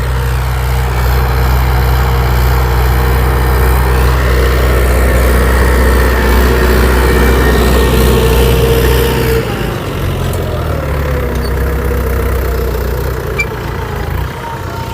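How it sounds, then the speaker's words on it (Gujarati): A tractor drives a cutter through a field, its engine a loud, steady low drone close by that eases and shifts in tone partway through. "તો ટ્રેક્ટર મિત્રો કટર મારે જ છે."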